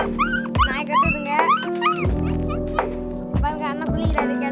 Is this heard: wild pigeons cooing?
no